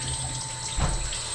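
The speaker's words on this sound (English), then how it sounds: "Why is there hot water coming out?" Hot water running from a tap during a cleanup at a draft house bar, a brief steady gush into a sink with a short louder splash midway.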